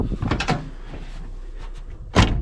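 A 1973 Dodge Dart Sport car door unlatches and swings open with a short clunk, followed by a louder thump near the end, with quiet shuffling in between.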